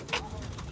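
Sialkoti pigeons in a loft giving a soft, brief coo, close and low, with faint background murmur.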